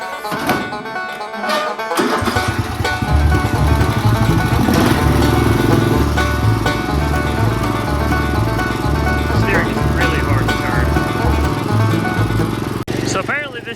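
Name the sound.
Murray lawn mower engine running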